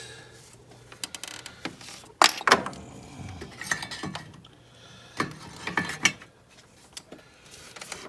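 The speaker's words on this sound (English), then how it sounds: "this is the 12 millimeter socket. I'm using a long socket." A ratchet fitted with a 12 mm long socket works on an alternator bolt of a 2009-2014 Nissan Murano, giving clinking metallic clicks and knocks in irregular bursts, with tool rattles between them and no speech.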